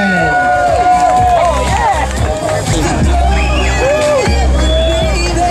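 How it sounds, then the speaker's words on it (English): A loud outdoor crowd at a Bike Week contest roars approval for a contestant, with whoops, shouted cheers and busy crowd noise layered together continuously, close and dense. "One more big round of applause for Kristen!"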